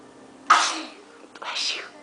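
A child sneezes twice, close by, each sneeze a sharp burst with a short breathy tail, the second coming about a second after the first.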